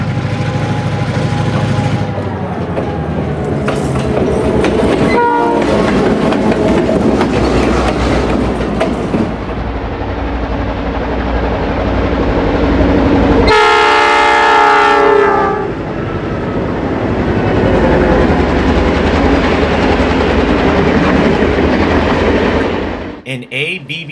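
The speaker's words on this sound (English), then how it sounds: "The action starts off with a single GP9 running long hood forward in the northern end of the Sacramento Valley with a single hopper and a caboose." A single GP9 diesel locomotive running long hood forward pulls one hopper and a caboose through the northern Sacramento Valley; loud, steady engine rumble with rolling wheels, and a horn blast sounds midway through.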